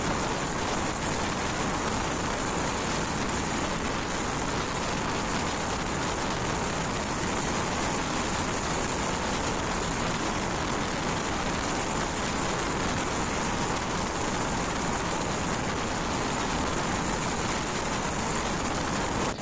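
The Darjeeling Mail passenger train runs through the countryside in a constant loud roar of wheels and carriage rumble, an unbroken wash heard from on board.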